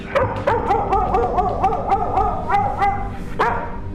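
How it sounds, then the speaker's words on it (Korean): A dog barks at night in a film, giving a quick run of about a dozen loud, close barks in steady rhythm, a brief pause, then one more sharp bark. "새벽 시간 유독 짖는 강아지에 어쩔 수 없이 밖으로 나가게 되고"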